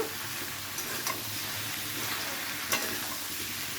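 Mixed winter vegetables with tomato fry together in a pan, giving an even, close hiss of sizzling oil with a few soft stirring taps and clicks.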